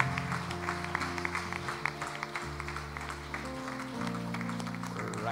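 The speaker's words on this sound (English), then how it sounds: "Come, church, a big clap to the Lord." Church congregation clapping at the end of a worship song, with sustained keyboard chords ringing underneath and scattered claps throughout.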